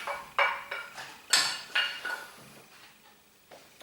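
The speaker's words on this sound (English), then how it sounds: "Give it all a nice stir around, get it all mixed in properly." Spring onions being stirred into mashed potato for a cottage pie, with a utensil clinking and scraping against the bowl in a run of sharp, close knocks that fade toward the end.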